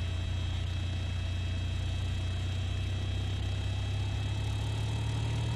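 A light aircraft engine idles steadily in a flight simulator game, a constant low drone with a faint mechanical hum held evenly throughout, with no one speaking.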